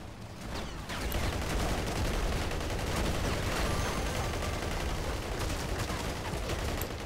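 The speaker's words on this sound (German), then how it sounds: "sind sie schon wieder schnell mit Maschinengewehr reinballern" Machine-gun fire in the Battlefield Heroes video game, a dense, continuous rattle of rapid bursts with loud, steady intensity after a brief quieter start.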